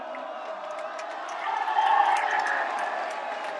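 Villarosa football supporters at a Sicilian Prima Categoria play-off match against Calcarelli, cheering from the stands as a rising crowd roar that peaks midway, fairly distant and soft.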